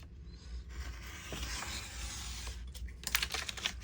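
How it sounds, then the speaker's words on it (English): A fairly new X-Acto blade scores through paper from a shopping bag, faint scratchy strokes with light ticks and crinkles, ending in a few sharper clicks, quiet and close with no talking. "X-Acto knife, newish blade."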